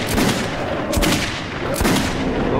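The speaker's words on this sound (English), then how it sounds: "Okay, I'm shooting, don't panic." A player's gun in Metro 2033 Redux fires two heavy, close shots about a second apart, each with a booming echoing tail, over a dense rumbling game background.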